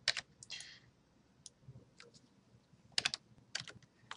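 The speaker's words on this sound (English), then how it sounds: "So I'm going to type some bogus numbers in here." Numbers typed on a computer keyboard into a web form, heard as quiet bursts of clicking keystrokes in short clusters with pauses between, close and alone.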